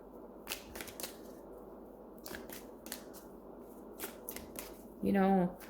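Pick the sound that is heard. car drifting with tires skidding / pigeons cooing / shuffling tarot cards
shuffling tarot cards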